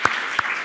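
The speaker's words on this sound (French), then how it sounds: "Applaudissements." Brief burst of audience applause at a civic ceremony in Laval, France, with steady broadband clapping and two sharper claps standing out, loud and close.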